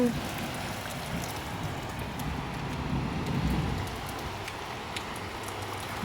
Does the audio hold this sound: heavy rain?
yes